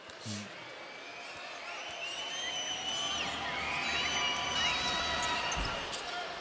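Basketball crowd noise in a Spanish ACB league arena during an Obradoiro versus UCAM Murcia game, a broad distant roar of cheering and applause with sneaker squeaks and a ball bounce, sustained at moderate level.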